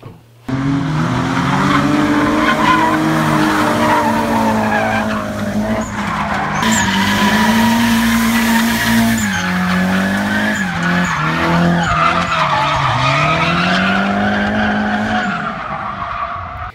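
Tires squeal and skid continuously from a car being driven hard, with rising and falling pitch sweeps over a steady engine roar, loud and close throughout.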